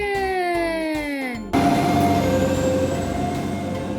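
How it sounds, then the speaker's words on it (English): A Melissa & Doug toy fire engine siren wails in rising and falling tones, then gives way to a harsh, buzzy electronic siren blaring loudly and steadily. "It's a fire engine!"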